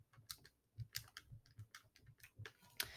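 Quick, light clicks of typing on a computer keyboard, a few irregular keystrokes in a short burst, faint and close in an otherwise quiet room.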